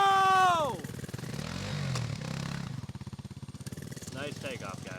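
Two cheap FRP minibikes pull away from a start, small engines revving up with a buzzing, pulsing drone close by after a shouted start, voices heard briefly.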